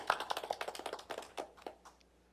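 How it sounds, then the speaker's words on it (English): Scattered hand clapping from a small group at a committee meeting, quiet and uneven, a brief patter of claps that thins out over a couple of seconds. "Let's give them a round of applause."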